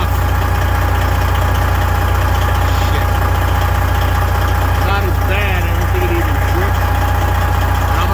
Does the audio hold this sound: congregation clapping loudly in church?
no